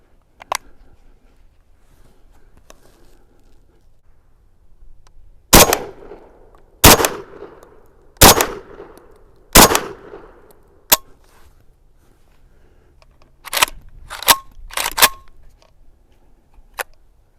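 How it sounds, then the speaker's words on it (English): Sharp, loud shots from a Saiga 410 semi-automatic shotgun fired outdoors at a target 15 yards away, four evenly spaced blasts with echoing decay, then a quicker cluster of cracks after a pause, and no talk. "we're going to fire off 5 more here at this target at 15 yards"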